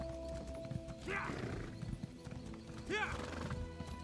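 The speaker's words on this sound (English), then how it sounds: "Sorry, I have a horse. I'm gonna ride right past you." Hooves clip-clop steadily while a horse whinnies twice, each neigh a wavering high call, over faint background noise in the video game Elder Scrolls Online.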